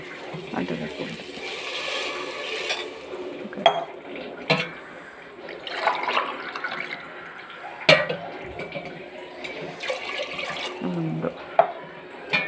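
Water poured into a cooking pot for sorghum rava (jowar semolina), about three glasses of water to one of rava, with steady splashing and several sharp utensil clanks close by.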